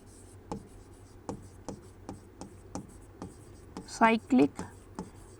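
Quick, regular strokes of writing on a board during a chemistry lesson, about a dozen short scratches in a steady rhythm, with a teacher's voice briefly breaking in near the end.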